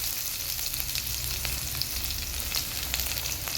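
Shallots and dried red chillies fry in hot oil, a dense, continuous crackling sizzle heard up close and fairly loud, with no voices over it.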